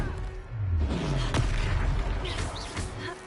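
A Confringo fire spell bursting in Hogwarts Legacy combat, a sharp booming blast around the middle over rumbling battle effects and game music.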